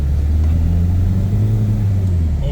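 A cheap project track car running a bodged turbo setup with a swapped intake manifold drones loudly up close, a steady low engine rumble under boost that holds for the whole stretch without speech.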